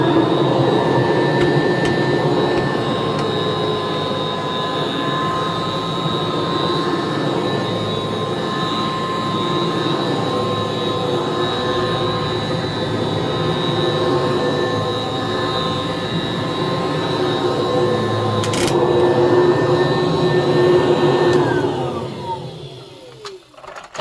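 A 1979-1981 Kirby Tradition vacuum cleaner runs close by with a loud, steady motor roar and a high whine, holding constant before winding down toward the end.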